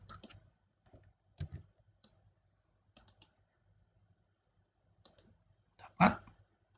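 Computer keyboard keys clicking in sparse, quiet clusters of taps while entering a spreadsheet formula, ending with one sharper, louder keystroke like an enter press.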